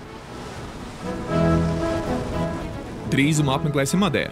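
Atlantic ocean waves and wind wash steadily around a sailing boat at sea, a constant rushing surf noise that swells louder near the end, heard under a voice speaking.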